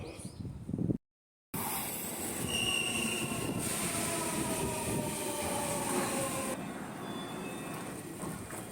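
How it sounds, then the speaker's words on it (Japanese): A train rolls through a Japanese station on a local line, a loud continuous rumble with wheels squealing high and steady throughout, heard after a brief cut. "まもなく岩木線を列車が通過します。"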